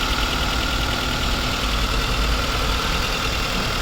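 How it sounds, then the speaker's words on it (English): A 2012 Maruti Gypsy petrol 4x4 engine idles smoothly up close, a steady, even mechanical hum with a low throb that holds constant throughout, with no talking. "You can just check out the sound of the engine."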